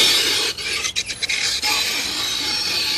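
A harsh scraping rasp stands in for fingernails dragged across a chalkboard, a close, continuous grating noise with a few short breaks near the start.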